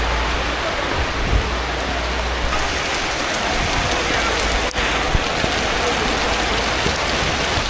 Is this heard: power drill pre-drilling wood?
no